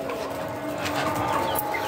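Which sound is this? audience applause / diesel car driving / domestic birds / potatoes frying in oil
domestic birds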